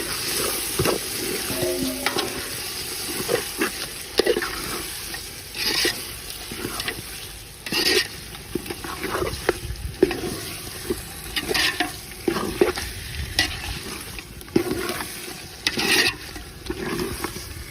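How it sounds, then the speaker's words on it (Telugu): Chicken pieces frying in hot masala for Rayalaseema natu kodi pulusu, a steady sizzle broken by repeated scraping, clattering stirs of a spoon against the pan, close and fairly loud. "ఆ మసాలా బాగా వేగిందండి, ఇది అట్లా అడుగు పట్టాలా. ఇప్పుడు మనం చికెన్ వేసుకుందాము."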